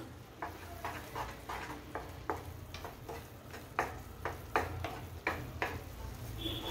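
Banana halwa with cardamom and cashews is stirred in a pan, producing repeated scraping strokes at an irregular, roughly half-second rhythm over a soft, low sizzle, close by.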